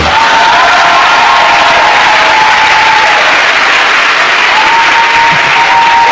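A church congregation applauds and cheers in praise of the Lord, a loud, dense wall of clapping with shouts and whoops that holds steady throughout.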